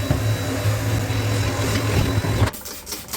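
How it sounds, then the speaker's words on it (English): A vacuum cleaner hums with a steady, whiny drone up close, then cuts off abruptly, leaving quiet room tone. "I also need to vacuum the shelf."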